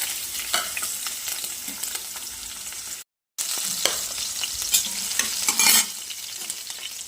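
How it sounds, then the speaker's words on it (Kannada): Green chilies fry in hot oil for soya Manchurian, a steady sizzle with stirring scrapes, broken by a brief silent gap before the frying resumes with louder crackles. "ಈಗ ಮಸಾಲೆ ಮಾಡುವ ಸ್ವಲ್ಪ ಎಣ್ಣೆ ಹಾಕ್ತಾ ಇದ್ದೇನೆ ಸ್ವಲ್ಪ ಹಸಿಮೆಣಸು"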